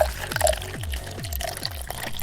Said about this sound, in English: fill it up with 40-to-1 2-stroke fluid